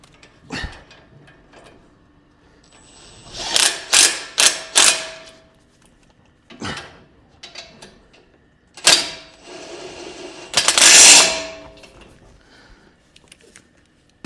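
Impact wrench working the brakes of a Skoda Octavia III, with loud, close rattling bursts of hammering, several short blasts then a longer one, separated by quieter clanks and handling noise.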